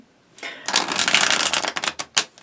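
Lo Scarabeo tarot cards are shuffled close up: a rapid riffling flutter of card edges that builds, then breaks into a few separate slaps and snaps, loud and alone.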